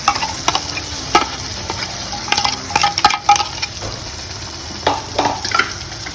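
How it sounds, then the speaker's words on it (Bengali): Prawn masala paste with raw and ground turmeric fries in hot oil in a wok, giving a steady close sizzle broken by scattered scraping and clinking stirs, with no voices. "কড়াইয়ে গরম তেল হয়ে গেছে, আর ওর মধ্যে চলে গেল একটু কাঁচা হলুদ, সামান্য গুঁড়ো হলুদ, আর ওর মধ্যে এবারে চলে যাচ্ছে সমস্ত মাখাটা।"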